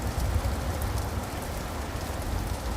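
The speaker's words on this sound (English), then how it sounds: "Look at all this rain." Rain falls and splashes outdoors at a lake in springtime, a dense, even patter that stays constant and close throughout with no voices over it.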